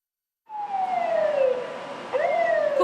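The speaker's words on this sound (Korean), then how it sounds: "쿠팡 물류센터 화재 현장에서 구급차 한 대가 빠져나옵니다." An ambulance siren sounds as the vehicle pulls away from the Coupang logistics warehouse fire scene in Icheon, Gyeonggi Province. A loud, continuous electronic wail glides downward, then jumps back up and holds steady, with no voices.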